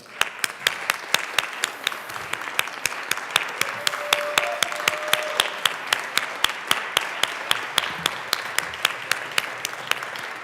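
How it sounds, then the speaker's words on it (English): Members in a state legislative chamber applaud a university track team headed to Nationals, a sustained round of crowd clapping with a few sharp claps standing out, and a brief tone partway through. "please give them a round of applause"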